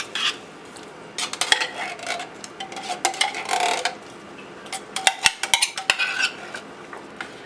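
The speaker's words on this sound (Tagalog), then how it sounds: "halu-haluin lang natin" Cream of mushroom sauce is stirred in a cooking pot for seafood pancit Malabon, with a spoon scraping and clinking against the metal in irregular bursts and sharp taps near the end, close by with no talk.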